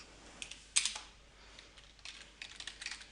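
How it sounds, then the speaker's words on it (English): Keys on a computer keyboard are pressed in a few quick, faint clicks with short pauses between them, heard alone in a quiet room. "either by pressing enter or an arrow down on your keyboard"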